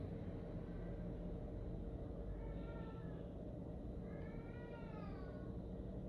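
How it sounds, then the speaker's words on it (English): A cat meowing indoors: a few soft, drawn-out meows rising and falling in pitch, faint and somewhat distant over a steady low background hum. "cat Pilgrim is meowing at her rat baby"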